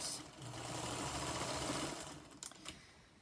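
A sewing machine chain piecing quilt blocks runs in one steady, fast-stitching whir for about two seconds, then stops with a few short mechanical clicks and clacks, close and fairly quiet with no talking.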